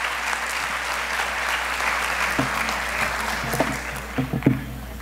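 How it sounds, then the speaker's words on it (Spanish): Loud, sustained applause from a large crowd at a student leadership showcase, dense and even, with a few sharper claps standing out as it begins to taper. "Un aplauso bien fuerte."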